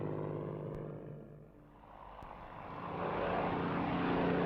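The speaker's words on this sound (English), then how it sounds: "it still turns heads and raises emotions with its classic lines and the full-throated roar of its Merlin engine" A Supermarine Spitfire's Rolls-Royce Merlin engine roars as the fighter passes, a loud, throaty propeller drone that dips briefly and then swells back to full volume, with no voices over it.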